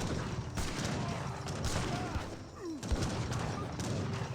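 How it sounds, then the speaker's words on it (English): Musket units fire volleys in an Age of Empires 3 battle. Dense, crackling gunfire overlaps in near-continuous bursts over a busy battle din, with a few dull thuds mixed in. "so the Akins can keep their muskets firing"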